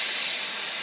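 Rancilio Z9 espresso machine steam wand venting pressure: a steady, loud, close hiss of escaping steam, continuous and unbroken throughout with no talking.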